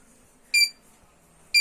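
A flood detector buzzer sounds two short, sharp electronic beeps about a second apart, bright and piercing over a faint background hum, with no one speaking.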